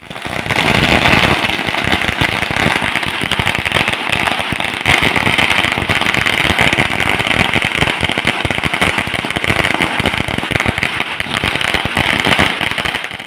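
Firecrackers burst in a dense, continuous crackling barrage at a Congress party election victory celebration, loud and sustained for the whole stretch.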